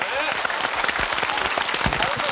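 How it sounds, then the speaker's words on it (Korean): Studio audience applauding on a Korean TV family game show, a steady dense wash of clapping at close range throughout, with a voice speaking underneath. "박수 주세요."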